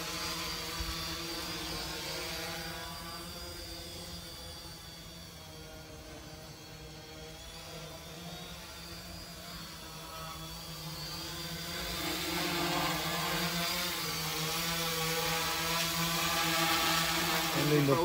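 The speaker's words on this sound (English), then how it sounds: "Now let's go outside and fly this drone." Homemade ESP32-based quadcopter drone flying outdoors, a steady multi-tone propeller buzz with wavering pitch that swells louder toward the end as it nears, continuous throughout with no talk.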